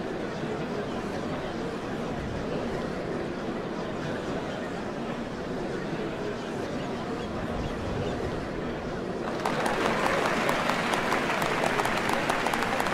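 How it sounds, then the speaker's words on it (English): A large crowd cheers and murmurs in a Final Fantasy XIV scene, a dense, continuous roar that turns into louder, sharper clapping applause near the end. "What a crowd!"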